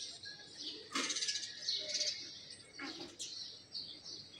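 A few birds call in the misty early winter morning, with sharp chirps and short twittering phrases in separate bursts at moderate distance and fairly quiet air between them.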